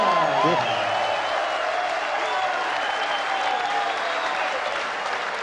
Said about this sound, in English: that's the biggest cheer of the night